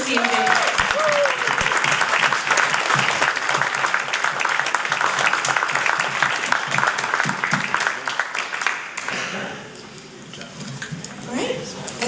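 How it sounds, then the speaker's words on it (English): Audience clapping for startup competitors at a student startup competition, sustained applause for about nine seconds that then fades out, leaving quieter room sound with a few voices. "Let's get a round of applause for all of our excellent competitors this evening."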